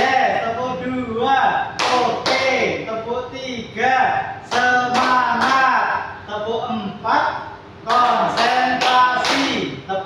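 A primary school class joins in the 'tepuk konsentrasi' clapping game, sharp group claps landing in short counted bursts between chanted voices, loud and close in a classroom.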